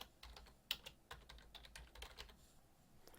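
Typing on a computer keyboard, a quiet uneven run of close, crisp key clicks with one sharper tap near the start, no talk.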